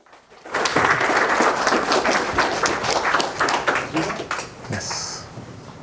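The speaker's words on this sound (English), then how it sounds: "Give him a round of applause, please." Audience at a London DevOps meetup applauding a speaker as he comes to the stage, a burst of clapping that starts abruptly, holds steady for several seconds, then thins and fades.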